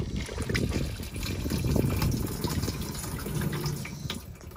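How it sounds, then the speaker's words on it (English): Water runs steadily through a Dometic portable camping toilet as it flushes, a close, continuous trickle and gush that lasts several seconds with no talking. "It's got a flusher."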